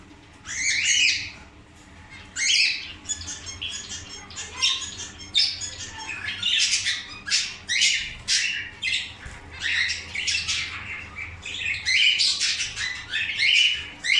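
Quail and zebra finches in an aviary call in dense bursts of chirps, squawks and nasal beeps, close and busy with brief pauses, no talking.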